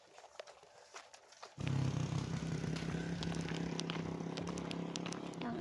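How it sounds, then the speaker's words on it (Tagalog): A family's motorcycle engine runs close and steady after a quieter start, its low rumble droning continuously once it kicks in, with scattered clicks and noises on top. "Ang aming motor."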